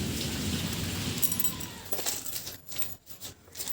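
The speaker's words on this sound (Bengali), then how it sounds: "কীরকম আকাশটা ডাকছে দেখো অনেক দিন পর বৃষ্টি হলো" A long-awaited rain shower after a dry winter, a steady wash of rainfall with low thunder rumbling in the distance, soft and continuous before thinning out near the end.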